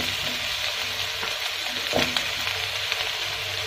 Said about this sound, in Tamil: இப்போ நம்ம புரோட்டாவை போட்டு அதை மிக்ஸ் பண்ணிக்கலாம்.